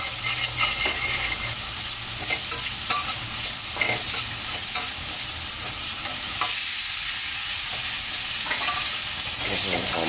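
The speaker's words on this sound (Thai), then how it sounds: "ผัดสักครู่แล้วรีบนำกุ้งเราลงคุกเลยครับ" Shrimp and spring onions stir-frying in a hot pan for chili-salt shrimp, with a steady loud sizzle and repeated scraping strokes of a spatula throughout, no talking.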